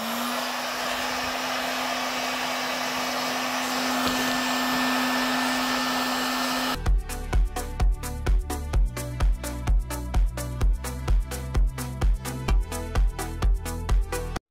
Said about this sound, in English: give her a little hit with the heat gun.